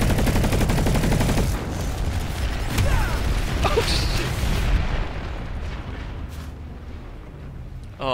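Loud, dense battle noise from Planetside 2 with a tank attack, heavy booming blasts and rapid gunfire filling the first five seconds, then fading into a quieter, rumbling aftermath.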